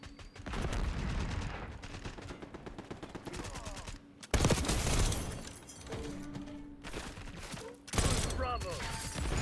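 GPMG light machine gun fires in Black Ops 6, sustained loud bursts of rapid automatic fire in several volleys with brief pauses between, punchy and close, over game effects.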